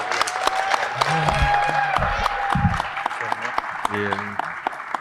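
A crowd at a high school athletic signing ceremony gives a round of applause, steady clapping with some cheering, while someone speaks over it and a brief voice says a word.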